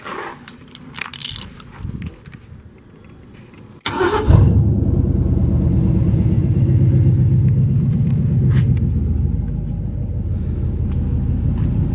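A car engine starts and settles into a loud, deep idle grumble with the exhaust fallen off, the rough low rumble running steady and close after some clattering handling noises beforehand.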